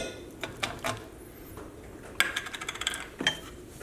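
A metal spoon scraping food out of a container while cooking a mushroom and lentil ragù, a series of close, quiet scrapes and clinks in an irregular rhythm with no talk.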